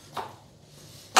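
Two sharp knife chops through broccoli florets on a cutting board, the first soft and the second a louder crisp strike about a second later, close and alone.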